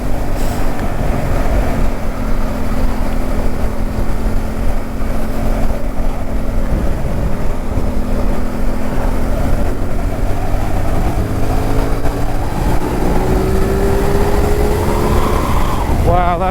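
A CFMOTO 450 SRS motorcycle engine pulls hard along a winding country road, its tone rising steadily as it accelerates, with continuous loud engine and wind roar throughout.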